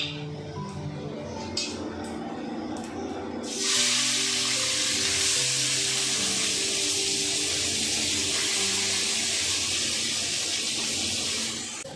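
A sudden loud sizzle erupts as onion hits hot oil already fried with cardamom and cumin, then a steady crackling hiss continues for several seconds. Quieter kitchen sounds precede it.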